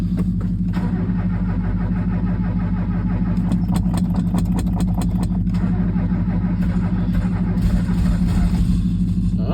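A 1995 Honda Fourtrax 200 ATV with its carburetor partly covered cranks in cold weather, its engine turning over in a steady low, rough chug that stays loud and close throughout, with brief rapid clattering bursts.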